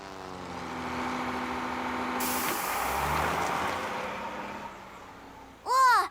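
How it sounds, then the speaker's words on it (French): A loud truck engine rumbles on for several seconds, ending in a short, sharp hiss of air brakes close by. "je crois qu'il n'y a rien qui fait autant de bruit que ce camion"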